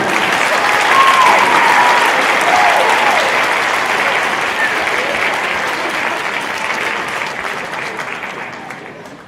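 Sustained applause from a school concert audience, the clapping crowd loud and steady for about nine seconds, swelling early then tapering slightly toward the end, no speech over it.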